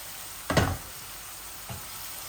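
Chili and spices drop into a pan of browned onions for a duck egg and potato curry, bursting into one loud sizzling hiss that fades, followed by a fainter second sizzle, with no talking.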